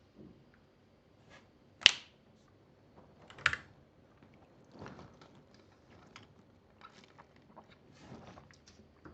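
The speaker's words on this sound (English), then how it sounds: "You gotta snap your fingers" Sharp finger snaps ring out alone in a quiet room, two crisp loud ones early and fainter clicks scattered after, mixed with soft tapping like keyboard typing.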